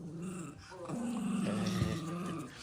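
A small dog in a clown costume growls in a low, sustained rumble that builds and holds for a couple of seconds, close and alone without talk.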